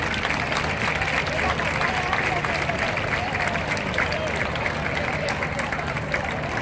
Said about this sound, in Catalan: Les acomiadem amb un fort aplaudiment.